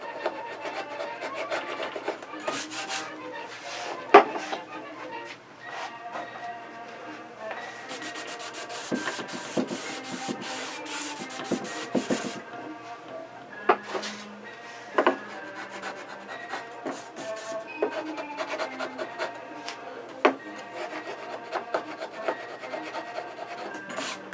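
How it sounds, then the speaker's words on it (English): Glue being scraped and rubbed off thin wood veneer on a rail-and-stile cabinet door gives a steady, close run of dry scratching with frequent short sharp scrapes and no talk. "you have to be very careful removing the glue because you might take off the thin veneer"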